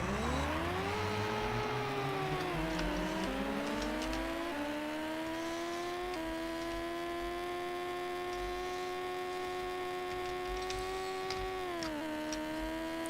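A car engine in an arcade racing game running under MAME, a steady synthesized drone whose pitch climbs in stepped gear-like rises and then holds high and level, loud and continuous with no talking.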